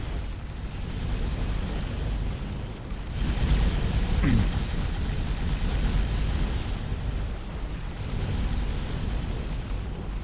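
Turret guns on a space station in a building game fire in a steady, dense barrage of booms and bursts throughout, loud and continuous, with one sharper burst standing out midway.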